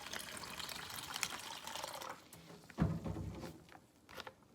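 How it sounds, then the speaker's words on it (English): Vinegar pours into a plastic bag with a steady trickling splash, then a brief crinkle of plastic and a few softer drips and gurgles, close by and without talk. "You're gonna take yourself some vinegar, pour it right on into the bag."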